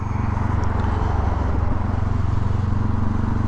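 Steady low motorcycle engine drone with a rhythmic harmonic pulse, a Yamaha R6 being ridden toward Honda Glasgow for new tyres in mid-November, constant and close with wind rush over it.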